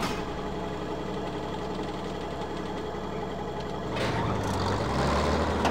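A tractor hitched to a trailer idles in the Farming Simulator 17 game, a steady, dense mechanical drone that grows slightly louder and deeper toward the end.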